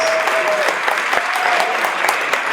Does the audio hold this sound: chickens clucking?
no